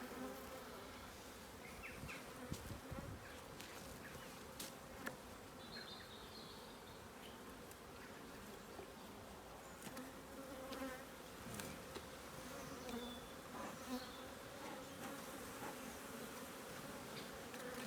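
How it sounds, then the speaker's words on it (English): A dense, continuous buzzing of many agitated bees around an open hive, steady and busy with individual insects zipping close now and then. "Bees are starting to get agitated now."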